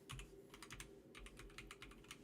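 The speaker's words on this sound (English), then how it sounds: "No, I'm typing it wrong." Rapid keystrokes on a computer keyboard come in two quick bursts with a brief pause between, close but quiet over a low room hum.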